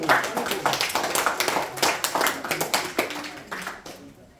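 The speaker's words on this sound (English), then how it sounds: "applause to Divyam, Dhruv and Rajesh." A small group at a Bhagavad Gita study gathering applauds with close, uneven clapping in irregular bursts, with some voices mixed in.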